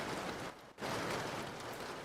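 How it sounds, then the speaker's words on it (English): A rain sound effect played on a livestream, a steady loud wash of rainfall with a brief dip in the middle, heard alone with no talking. "Here, I'm gonna put in some rain now."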